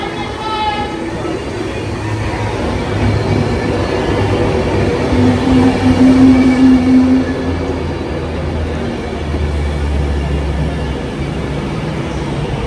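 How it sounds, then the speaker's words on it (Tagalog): A West Coast train pulls into a station with a steady low rumble and rolling rail noise, swelling slightly mid-way with a brief squeal. "Sasakay na tayo sa train."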